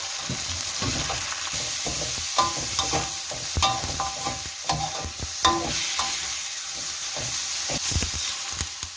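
Chicken liver stir-fried for a Thai holy basil dish with a splash of water, a continuous close sizzle under repeated scraping and clacking of a spatula in the pan, with no talking.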